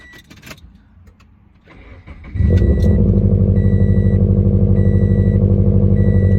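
A car engine cranks and catches after a brief jingle of keys and soft warning chimes, then settles into a loud, steady idle close by that continues to the end, with the chimes still repeating faintly.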